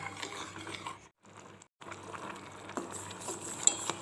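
Milk simmering and bubbling in a pan, a steady fizzing texture with a brief gap and a few small clinks, heard close.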